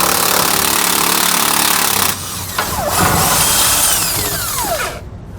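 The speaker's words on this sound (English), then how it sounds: "We'll remove both these bolts using a 21mm socket." Power tool, likely an impact gun, running on 21mm frame bolts of a 2014 Thor Windsport motorhome, a loud steady whine for about two seconds, then a lower-pitched rising and falling run that fades out near the end.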